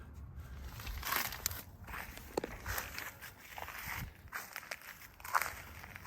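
Crunchy footsteps on rough ground, a steady series of crackling steps close by, with rustling and a little wind noise.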